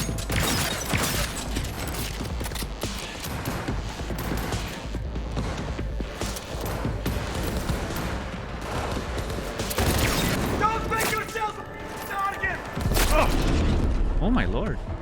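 Repeated gunfire from a weapon in Cyberpunk 2077 cracks out in rapid, irregular bursts and volleys, fairly loud and close, mixed with mechanical clatter and other game noise.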